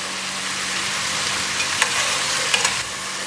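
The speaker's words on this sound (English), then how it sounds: "we're going to saute these another 5 to 7 minutes until the onions are soft" Onions sautéing in a pot for Creole jambalaya, a steady close sizzle that runs without a break, with a couple of faint scrapes of stirring.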